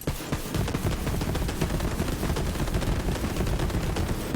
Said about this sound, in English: This is what it looks like when you fire the Ogre.